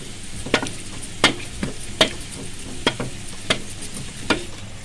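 Boiled potatoes and peas for street-style aloo batani chaat get mashed in a pan, about eight sharp, evenly spaced tapping knocks over a soft sizzle, with no speech.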